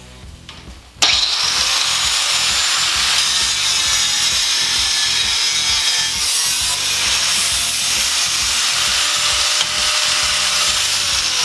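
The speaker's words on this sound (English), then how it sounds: "now let's try to cut this weld around the edge here" A power cutting tool grinds loudly and steadily through the weld on the end cap of a motorcycle muffler, a harsh continuous metal-cutting whine that starts abruptly after a brief quiet moment and holds on without a break.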